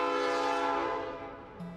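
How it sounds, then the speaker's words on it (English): Horn of the Lehigh Gorge Scenic Railway train leaving the station in downtown Jim Thorpe, one sustained loud chord blast that fades as it ends, with a faint lower tone after it. "The Lehigh Gorge Scenic Railway departs from the station in downtown Jim Thorpe, heading out along the gorge"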